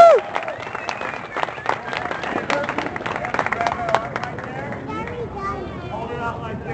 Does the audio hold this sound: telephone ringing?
no